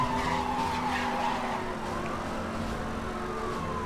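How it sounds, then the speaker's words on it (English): A car drifts at about 200 km/h in Need for Speed Hot Pursuit (2010), with a long, loud tyre screech over a droning engine and faint sirens in the background, all without speech. "Again, 200 km/h drift, no big deal."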